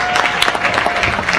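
Audience applause for a singer at a live celebration event, a dense steady patter of many hands clapping close by, with faint crowd murmur mixed in throughout.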